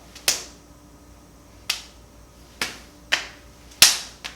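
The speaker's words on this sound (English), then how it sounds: "We're going to clap at the top." Sharp single hand claps ring out in a quiet gym room at the top of kettlebell swings, five crisp isolated slaps spaced irregularly about a second apart, each with a short decay.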